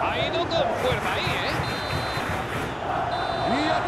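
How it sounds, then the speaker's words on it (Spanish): A referee blows the final whistle in the football video game PES 2021, giving two thin, high whistle blasts over steady stadium crowd noise, with commentary going on. "Y aquí está, el pitido final."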